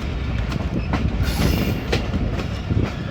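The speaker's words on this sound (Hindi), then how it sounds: "ये हमारी ट्रेन लूप लाइन पे चली गई" Hazara Express passenger train rolling onto the loop line at Ghungrila station, with a steady close rumble of wheels and repeated clickety-clack rail-joint clatter throughout.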